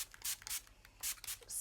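Heat protection spray hisses onto hair in a few short, soft bursts separated by brief pauses, heard close and quiet.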